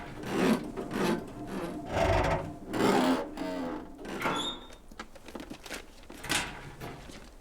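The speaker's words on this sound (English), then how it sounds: "Got plenty of clothing items to break down for cloth now." Clothing being torn down into cloth in the survival game The Long Dark, a series of close, rough ripping and rasping strokes in steady bursts with no talk.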